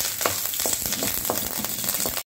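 Curry leaves and dried red chillies crackle and sizzle in hot oil, with repeated sharp spitting pops over a steady frying hiss, close and continuous.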